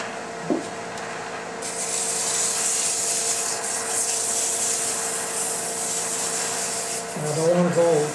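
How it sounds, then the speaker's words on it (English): Wood is rubbed with sandpaper by hand, a steady, close hissing scrape that continues for several seconds, with a brief soft voice sound near the end. "I don't want to go too low with my sandpaper because this is sanded"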